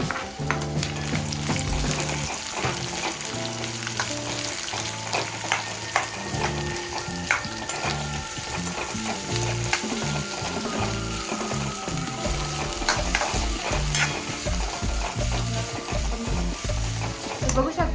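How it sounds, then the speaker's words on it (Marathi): Chopped onion stir-frying for desi Hakka noodles after green chilli, garlic and ginger, with a steady loud sizzle and busy, repeated scraping and clinking of a spatula against the pan throughout. "कांदा आपला छान असा फ्राय झाला आहे"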